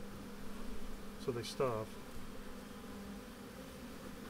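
Honey bees buzz at a beehive as a steady low insect hum, mostly in the background, with a voice speaking briefly over it.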